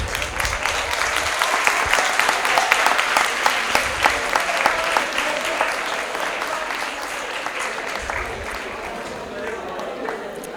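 Secondary school audience in Ljubljana clapping loudly in a hall, a dense burst of applause with distinct individual claps that swells and then slowly tapers off over ten seconds, with some crowd murmur underneath.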